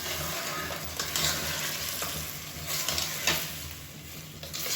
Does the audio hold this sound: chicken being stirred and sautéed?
yes